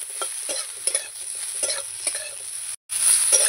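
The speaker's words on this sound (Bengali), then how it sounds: "এবার নেড়ে চেড়ে নেব। বেগুনগুলো একটু ভেজে নেব আমি।" Eggplant pieces frying in oil are stirred in a pan, with repeated spoon scrapes and soft clacks over a bright, hissing sizzle, which briefly cuts out before resuming louder.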